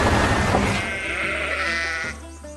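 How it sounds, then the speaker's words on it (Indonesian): Sheep bleating in an animated farm cartoon, a few drawn-out wavering bleats up close with dense harmonics, one after another, with a soft backdrop of music and no talk. "Domba putih dan kura-kura hitam berdiri berdampingan di jalan berlumpur."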